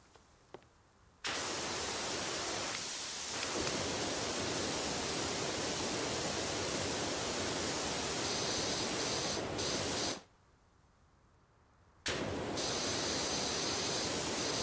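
Pressure washer spray from Powerwash Simulator: a loud, steady broadband hiss of jetting water runs almost continuously, cutting out briefly twice, with no talking.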